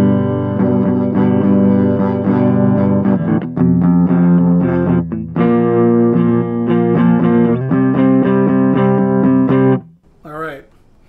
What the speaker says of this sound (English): Let me give you some clean tones here on just the neck pickup